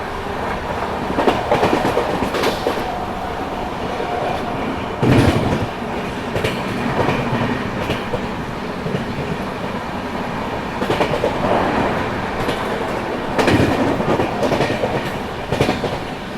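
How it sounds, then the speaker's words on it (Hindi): A train clatters along the rails while overtaking the Mahanagari Express near a railway station in Prayagraj, with steady rolling noise, loud rhythmic clickety-clack bursts and faint wheel squeal, heard close and without talk. "यहाँ प्रयागराज शिव की रेलवे स्टेशन पे महानगरी एक्सप्रेस को ओवरटेक कर रहे हैं हम"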